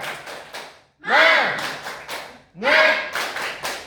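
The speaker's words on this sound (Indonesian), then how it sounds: "Jadi ice breakingnya itu tepuk semangat" A primary school class performs the tepuk semangat clapping ice-breaker, with bursts of rhythmic claps and loud chanted voices in two big swells.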